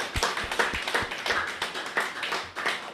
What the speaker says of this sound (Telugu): గట్టి క్లాప్స్ కూడా.